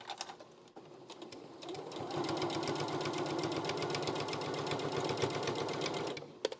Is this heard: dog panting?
no